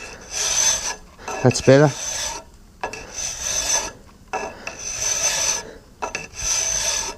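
A metal file rasps against a foundry moulding box in repeated strokes, loud and close, with brief pauses between strokes and a short spoken remark partway through.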